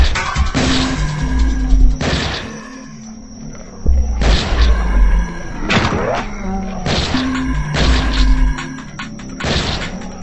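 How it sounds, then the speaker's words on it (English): Repeated loud sniper gunshots in the zombie shooter game Zombocalypse, about six heavy booming blasts spaced a second or two apart, each with a ringing tail, with no talk. "Sniper gun."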